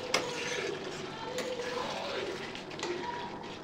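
Curry in a pot is stirred after garam masala is sprinkled in, with a spoon clinking and scraping against the metal several times over a continuous bubbling, watery background.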